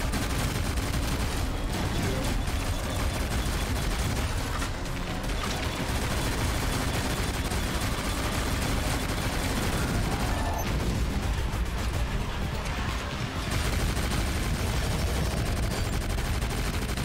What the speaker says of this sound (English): Should I shoot the blinkers or...